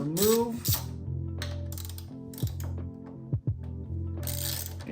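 A hand ratchet clicks and turns while bolts are loosened during a motorcycle exhaust install, giving short mechanical bursts and a few sharp clanks up close between gaps, with talking at the start.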